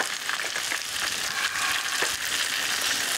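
Pieces of fish sizzle in a pan over an outdoor cooking fire on a Siberian river, a dense continuous hiss with faint crackles and stirring scrapes, close and steady with no talk.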